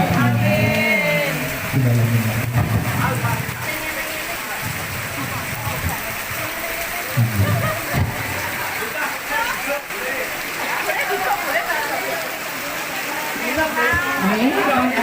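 Rain falls steadily during an outdoor prayer at a school alumni reunion in Jepuro village, Juwana, with a constant close hiss under voices speaking and chanting.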